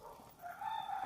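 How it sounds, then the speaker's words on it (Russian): A rooster crows faintly in the distance, one drawn-out call against a quiet outdoor village background in Bali. "Классическая деревня, слышно петухов."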